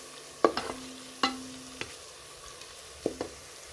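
Pilau spices fry in a pot and are stirred, giving a quiet background sizzle broken by a few sharp scraping clinks of the spoon against the pot, with no voices.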